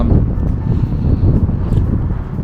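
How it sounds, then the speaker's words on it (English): Strong wind buffeting the microphone beside Campbeltown harbour in Kintyre, Scotland, a loud low continuous rumble with gusty swells and no voices. "It's a bit blowy here at Campbelltown"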